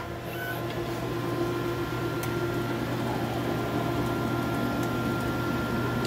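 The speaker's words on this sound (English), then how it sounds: "We're gonna put this board on the rails and hit our SMEMA." DEK Horizon 02i stencil printer processing a circuit board, a steady machine hum with fan-like whirring and faint tonal drones, constant and close with no speech.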